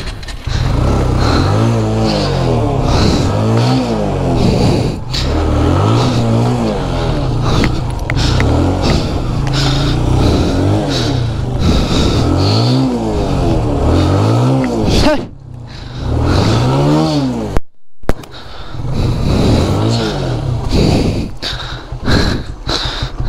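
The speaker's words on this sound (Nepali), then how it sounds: "यताबाट चाहिँ जान्छ मेरो बाइक" Motorbike engine revving and labouring as it climbs a slippery road near Sandakpur, Ilam, close and loud, with throttle surges rising and falling and a brief dip near the end.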